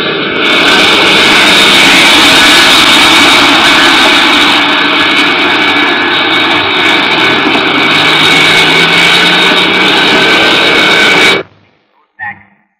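A Boeing airliner of Indian Airlines departing for Bangalore, its jet engines roaring loud and close in a steady sustained drone before cutting off abruptly, followed by a short faint noise.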